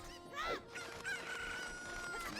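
A cucco chicken in The Legend of Zelda: Ocarina of Time gives a sharp crowing squawk, followed by clucking game chirps over faint background sound.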